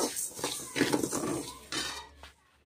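Puffed rice stirred in a hot pan for a village sweet, grains rattling and scraping against the metal in busy clinking bursts, fairly close and steady before stopping.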